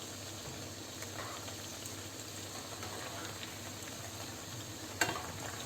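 Bread vada frying in hot oil after being turned, a faint steady bubbling sizzle with one brief sharp clink near the end, quiet and continuous.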